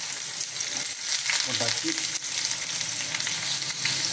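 Two cloves of garlic and onion fry in hot oil for a simple chutney, a dense, steady sizzle close by with a brief spoken word partway through.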